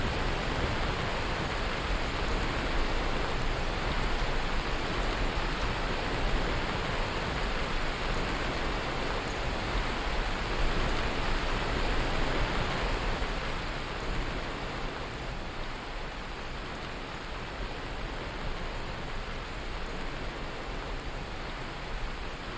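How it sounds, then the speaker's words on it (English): Steady, loud rain pours in Skyrim Special Edition, a dense even hiss of drops on surfaces that continues without a break, easing a little toward the end. "that rain is too loud"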